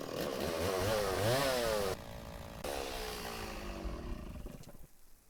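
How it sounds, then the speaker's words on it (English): A chainsaw cuts down a tree in the Farmer's Dynasty farming video game, its engine loud and continuous with rising and falling revs, briefly dipping before running on and fading at the end. "Don't make me get my chainsaw and cut this tree down."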